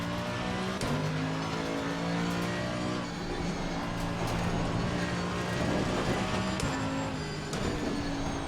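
Race car engine in Assetto Corsa Competizione on the Nordschleife, a steady loud drone with shifting harmonic tones as revs rise and fall through gear changes, running continuously with no talk over it.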